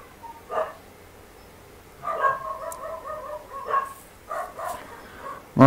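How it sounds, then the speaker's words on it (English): Neighbouring dogs barking next door in short, yappy bursts with some whimpering, heard at a moderate distance and coming in irregular clusters over a quiet background. "the next door's dogs barking their heads off"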